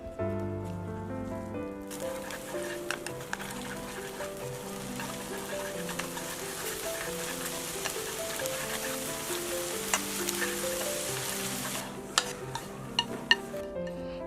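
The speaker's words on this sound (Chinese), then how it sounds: "锅里面倒入多一点的油，再倒入蛋液，给它搅拌成蛋花。" Beaten egg fries in a generously oiled pan while being stirred, giving a continuous soft sizzle with occasional scraping taps under background music.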